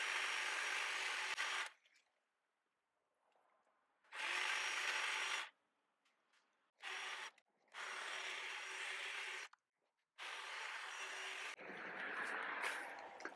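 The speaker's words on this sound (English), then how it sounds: "There's no trouble there cutting through the branches." A cordless hedge trimmer buzzes loudly in several bursts of a second or two, with quiet gaps between, cutting through branches up close.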